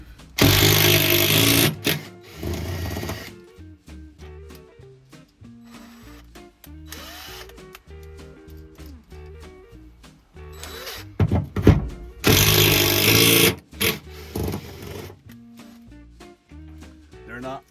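A power drill bores out a small rivet while a table is being mounted in a 1991 Dodge camper van. Two loud, sustained whining bursts are separated by quieter clunks, handling noise and a voice.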